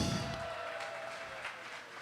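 A crowd applauding at a 70th birthday tribute during a 50th birthday celebration, steady clapping that fades slightly toward the end.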